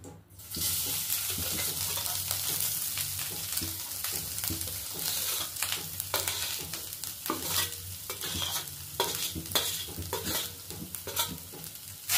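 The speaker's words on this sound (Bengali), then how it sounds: "এতে একটু নারকেলটা ভাজতে থাকবো," Grated coconut frying in ghee over a low flame while being stirred, giving a steady close sizzle with repeated scraping strokes of the spoon throughout.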